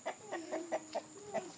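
Small young chickens clucking in a rhythmic series of short, close calls, about seven distinct clucks over a moderate, steady background hum.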